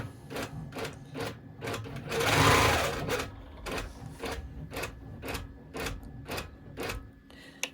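Close up, a sewing machine stitches elastic down onto a fabric notebook cover, running in short rhythmic bursts of clattering needle strokes with a louder whirring stretch partway through.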